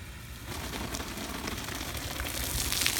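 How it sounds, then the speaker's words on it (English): A rainstorm arrives as a steady broadband hiss of rain falling on surfaces, swelling gradually louder over a few seconds, with scattered drop patter and no voices. "Hey look, here comes a rainstorm."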